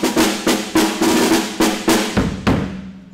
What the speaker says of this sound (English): When you turn the lever on, then it brings the wire snares up against the bottom end,